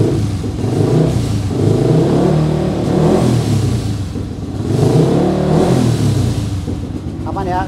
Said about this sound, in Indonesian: Coba kita gas tipis-tipis ya, bisa teman-teman dengerin suaranya.